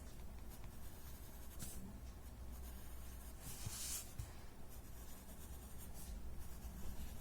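A pencil drawing broad reference lines on four sides of a tangle pattern gives soft, quiet scratching strokes in short bursts, with no voices.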